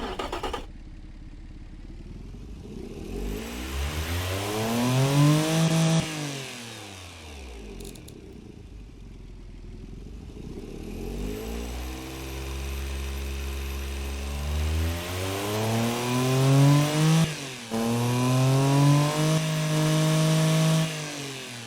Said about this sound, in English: let's give you here what this engine sounds like based off the liter per horsepower engine